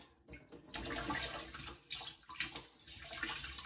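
Water is poured slowly into a home aquarium during a water change, a steady splashing, gurgling flow, close and fairly loud, with brief surges and dips throughout.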